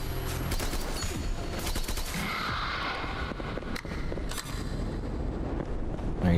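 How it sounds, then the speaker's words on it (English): Rapid SMG gunfire in the video game Concrete Abyss, dense continuous bursts of shots loud and close throughout, with a couple of sharper cracks standing out. "At least I can use my SMG."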